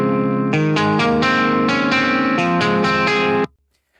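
A slightly crunchy, distorted electric guitar plays dry, without delay or reverb, in a heavy song mix. Loud sustained chords shift every half second or so, then cut off abruptly into silence near the end.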